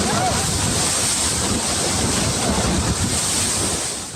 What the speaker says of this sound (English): witnessing a massive tidal wave suddenly rise and crash through the river